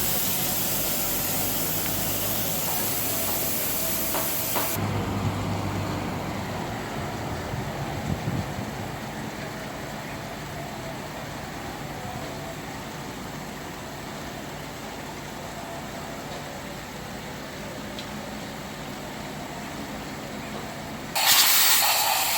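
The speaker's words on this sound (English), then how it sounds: "he's using the air gun now to clean up the engine" A steady hiss of compressed air from an air gun blows water off the engine of a 1990 Toyota Corolla 1.6 continuously for a long stretch, close by, with a louder burst at the start and another near the end.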